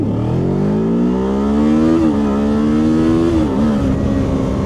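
A 2025 Kawasaki Ninja 7 Hybrid motorcycle accelerates hard under e-boost, its engine note climbing steadily in pitch, loud and close, with a brief dip around a gear change before pulling on.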